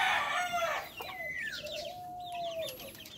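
Rhode Island chickens cluck and a rooster crows, a quick cackle followed by a drawn-out call, fairly near against a quiet farmyard background.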